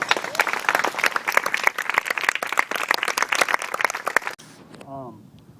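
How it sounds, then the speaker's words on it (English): Applause fills a fundraising dinner for the fight against blood cancer in Kaua'i: a dense, sustained round of clapping from the audience that stops abruptly, followed by a brief voice. "So give yourselves a round of applause."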